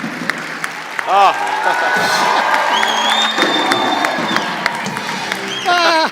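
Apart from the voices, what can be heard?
audience applause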